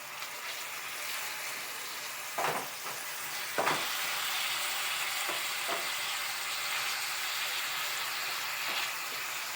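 Ground beef browning in a pan, a steady, close frying sizzle that continues throughout, with a few clanks and scrapes of stirring.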